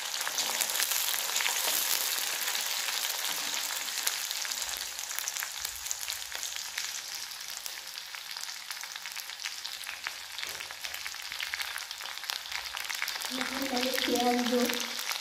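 Green chillies frying in hot oil in a pan, a continuous bright sizzle and crackle lasting throughout at moderate level, with a faint voice near the end.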